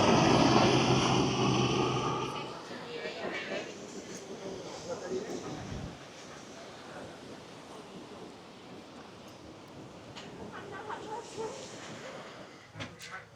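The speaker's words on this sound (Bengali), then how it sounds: "এই দেখো চপার যাচ্ছে, হেলিকপ্টার।" A helicopter passes overhead near Galle Fort in Sri Lanka, its broad rumbling roar loudest at the start and fading into the distance while people talk nearby.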